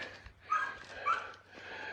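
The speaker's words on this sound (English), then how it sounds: "there are puppies everywhere." Soft, high-pitched whimpering from young dogs, a couple of brief whines rising over quiet background rustling, fairly close.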